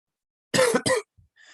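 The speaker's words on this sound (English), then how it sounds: "All the talking just really making it easy to end up with the coughing fits." A person coughs twice in quick succession in a quiet room, with a faint throat sound after, the tail of a coughing fit during a history lesson.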